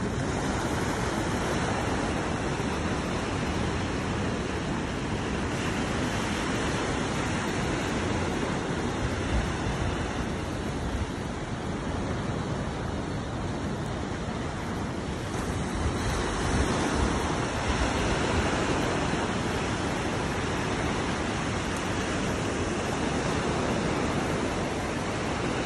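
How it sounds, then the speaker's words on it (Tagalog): Sea waves washing onto a shore, a steady broadband surf roar with some wind, continuous and fairly loud throughout with no talking. "Sarap pakinggan ng dagat."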